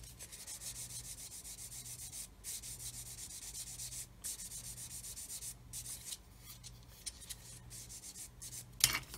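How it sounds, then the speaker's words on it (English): A hobby knife held at an angle scrapes along a seam joint on a Meng 1/35 9K37M1 Buk plastic model kit part, making soft, steady rasping strokes close up and quiet, with brief pauses between passes and no talking. "with the knife, keep it an angle away from the joint. Gently rub across it like so."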